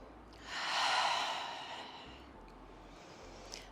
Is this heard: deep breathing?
yes